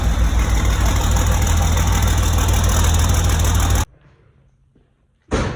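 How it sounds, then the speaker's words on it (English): A heavy tractor engine idles steadily and loud for several seconds, cuts to near silence, then roars back briefly at the end. "as he's running that tractor for us"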